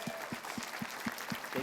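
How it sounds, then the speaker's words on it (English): Audience applause at a live event, a steady wash of many hands clapping close and fairly loud, with a regular pulsing beat running through it and no talking over it. "Let's give her a big round of applause."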